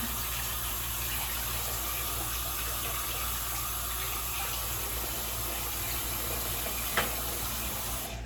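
Tap water runs steadily into a sink while dentures are rinsed under the stream, a continuous hissing gush heard up close with a single small knock near the end.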